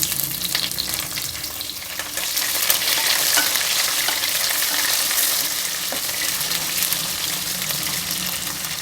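Onions are added to browned chana dal frying in a pan for vangibath, a loud continuous sizzle and crackle with occasional stirring scrapes, close and steady with no talk.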